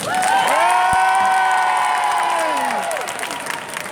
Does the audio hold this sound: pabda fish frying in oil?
no